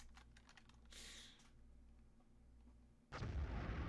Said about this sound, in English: Sound like an explosion.